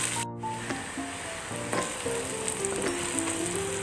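About three large chopped onions frying in a pan for mutton kaleji masala, a constant close sizzle with occasional stirring scrapes and light utensil taps, no talking.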